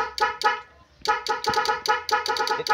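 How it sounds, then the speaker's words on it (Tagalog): A Nissan Serena's music horn honks repeatedly in short, loud, uneven bursts, close by, with a brief pause before the honking resumes. "Busina mo dyan, busina."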